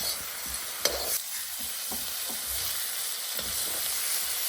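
Abalone cooking in a pan with water added to reduce the sauce, a soft steady simmering sizzle punctuated by a few stirring clacks and scrapes, close and without speech.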